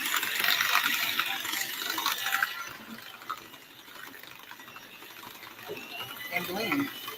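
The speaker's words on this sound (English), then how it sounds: "I don't know why my mixer sounds like this" A kitchen mixer mashes and blends potatoes with a steady rattling, grinding mechanical whir that rises and dips slightly throughout.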